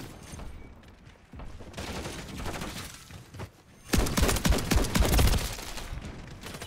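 The Haymaker shotgun fires in Modern Warfare 3 gameplay: scattered shots early, then a loud, rapid burst of repeated blasts in the second half, with no voices.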